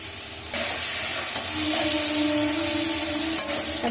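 Spice paste and chili powder hit hot oil in a pan while prawns are being cooked, setting off a sudden loud, steady sizzling hiss that holds close and continuous.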